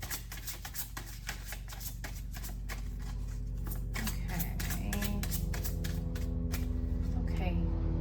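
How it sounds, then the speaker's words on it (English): Oracle cards shuffled by hand, a run of rapid crisp riffling flicks and slaps, close and moderately quiet, continuing steadily over several seconds with faint background noise. "A couple more shuffles."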